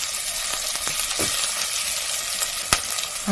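Ginger sizzles in a little hot oil at the bottom of a soup pot, a steady bright crackle with a few sharper pops and a stir, close and alone.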